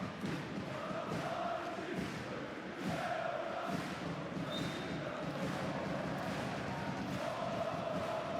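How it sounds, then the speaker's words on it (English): Crowd cheering in a basketball arena at a Basketball Champions League game, a loud, sustained roar with chanting swells and thumping drums rhythmically throughout. "These crowds with this atmosphere."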